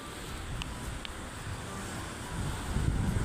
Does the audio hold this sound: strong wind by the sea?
yes